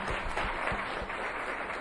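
Audience clapping at a street pitch entrepreneur event, a steady moderate wash of many hands under low rumbling thumps, continuous for under two seconds.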